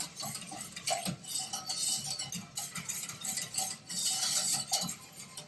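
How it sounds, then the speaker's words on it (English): Whisk stirring cocoa into milk heating in a pot, quick rhythmic metallic scraping and clinking against the pan, close and steady with no talk. "Yeah, it dissolves easily. Not a lot of whisking required."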